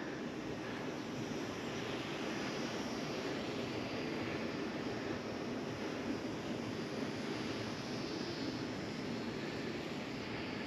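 A tiny Eachine A6M Zero RC model plane with stabilization flies outdoors, its small electric motor a faint, steady hum under a broad wind-like wash that continues without pause.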